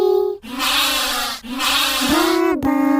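Sheep bleats in a children's nursery song, three loud, drawn-out, nasal cries in a row, each separated by a short gap.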